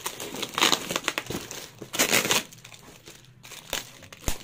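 A cardboard box is torn open with a pen, giving loud bursts of crinkling, crumpling and tearing cardboard in irregular rushes, with sharp clicks and brief pauses between.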